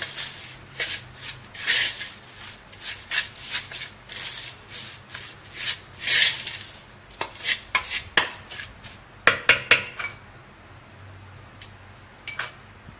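Raw mango pieces being mixed by hand with spices in a bowl for pickle, giving irregular rubbing, clinking and scraping bursts that come and go up close, with no talk.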